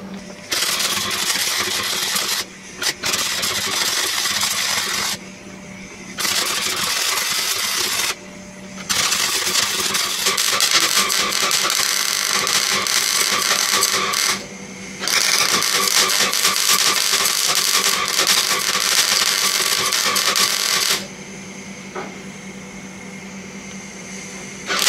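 A Classic Mini body shell is spot welded from underneath, with loud sustained buzzing welder bursts of several seconds each separated by short pauses in a workshop.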